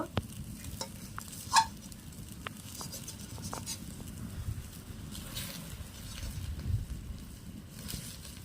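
Eggs fry in a pan, giving a soft, low sizzle with a faint patter and an occasional light click, steady throughout and without talk.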